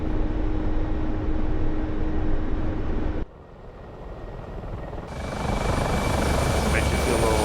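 Mixed formation of Mi-24 and Mi-8 helicopters in a video game, a dense loud rotor roar that drops abruptly midway, then swells back up, with voices talking over it.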